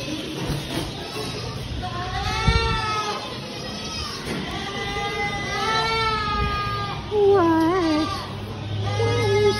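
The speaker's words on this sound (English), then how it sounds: "There are lots of goats." Goats bleat repeatedly at close range on a farm in Ohio, wavering cries rising and falling, with a few overlapping calls and quiet voices in the background.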